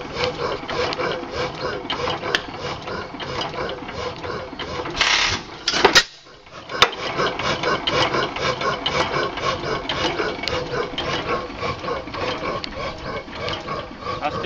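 A 14 hp Waterloo Boy gas engine runs with a steady, rhythmic mechanical chugging that continues through the clip, broken by a brief dip and a few sharper knocks midway.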